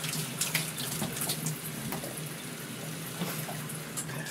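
A tap runs steadily into a sink while a pet drinks from it, a constant close hiss of flowing water with small splashes and no talk.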